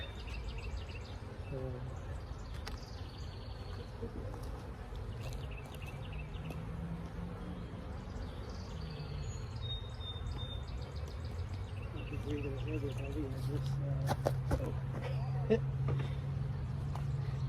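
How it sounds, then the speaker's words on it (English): Bees buzz inside an outdoor beehive being opened for liquid feeding, a steady droning hum throughout with someone talking over it, faint bird calls and a distant engine. "I hear a lot of bees in there."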